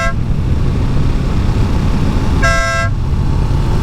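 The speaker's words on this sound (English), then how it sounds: "I will hit this horn here once I make sure there's no one up here." A Denali Soundbomb motorcycle horn blares once for about half a second over loud wind and engine rumble, heard from inside the helmet while riding.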